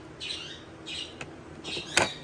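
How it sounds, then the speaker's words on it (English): A pet bird squawking indoors near dishes, giving three or four short, harsh squawks in quick succession, close and fairly loud over a low background hum. "And Mr. Birdy Bird here is getting into my dishes"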